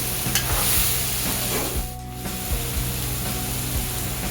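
Soybean and potato curry with yogurt being stirred and sautéed in a pan, a steady close sizzle with scraping stir strokes and no talk.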